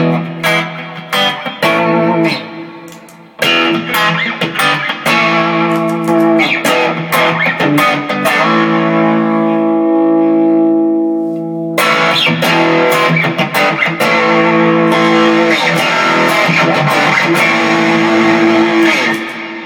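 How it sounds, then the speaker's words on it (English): Electric guitar notes and chords ring out through a spacious reverb, with long sustained tails blooming and fading between strummed passages; loud, no talking. "This is sort of my standard, just kind of basic reverb sound."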